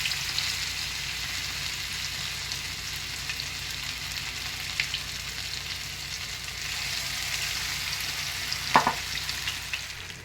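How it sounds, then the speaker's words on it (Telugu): Fish pieces frying in a pan for a fish curry with okra, giving a steady crackling sizzle throughout, with a brief clink of a utensil near the end and no talking. "మన చేప ముక్కలు అయితే ఫ్రై అయిపోయినాయి"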